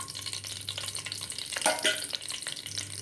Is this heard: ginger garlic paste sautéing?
yes